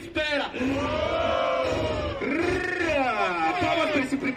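A crowd at a Brazilian street rap battle, Batalha da Leste, erupts after a first round, with many voices shouting and cheering loudly and continuously.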